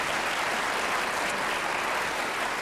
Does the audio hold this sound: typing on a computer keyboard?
no